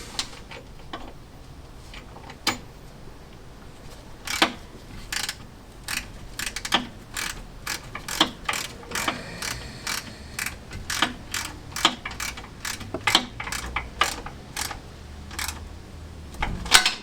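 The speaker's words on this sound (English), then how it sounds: "Ratchet." Ratchet wrench clicking in repeated bursts while a classic Fiat 500 engine is refitted, close and crisp, with rapid pawl ticks in short runs and brief pauses between strokes.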